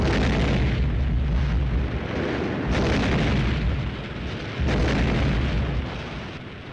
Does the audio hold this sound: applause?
no